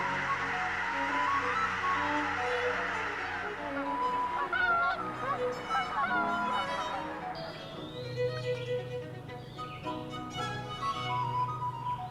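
Canada geese honk repeatedly at a moderate distance in New Hampshire, their calls overlapping in a continuous chorus over faint background noise.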